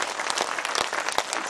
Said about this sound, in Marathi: एवढी ताकद लावून टाळ्या वाजवा